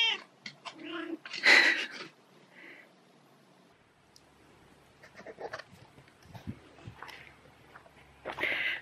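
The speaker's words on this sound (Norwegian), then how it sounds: "Bak her er pusen." A domestic cat meows indoors, a few short cries rising and falling, with a person's voice briefly near it and quieter stretches between calls.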